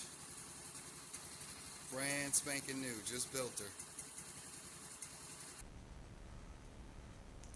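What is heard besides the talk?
new Tao 2014 Chinese scooter engine idling after first start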